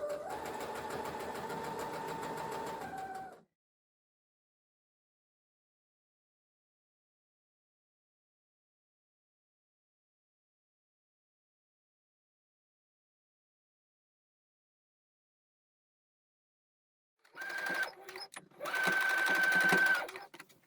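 A sewing machine stitches around a mitre while sewing a New Look 6483 top: one steady run of about three seconds, a long silence, then a second run that stops briefly and resumes near the end.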